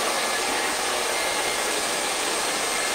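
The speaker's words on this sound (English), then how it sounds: "You can touch it with the dryer." A hair dryer blows on a wig, giving a steady, close, even rushing whoosh throughout with no changes in pitch or strength.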